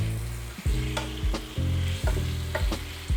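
Salted cherry tomatoes and zucchini frying in a pan over raised heat while being stirred, a loud close sizzle punctuated by about six rhythmic scraping strokes and knocks of a utensil, without speech.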